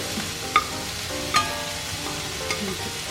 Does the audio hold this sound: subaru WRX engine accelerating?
no